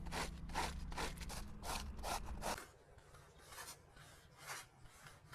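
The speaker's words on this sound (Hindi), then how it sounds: "अब इसको करेंगे हम कद्दूकस" Vegetables, cabbage among them, are rubbed hard against a kitchen grater for Manchurian, a close run of rhythmic rasping strokes that then slows into softer, scattered scrapes.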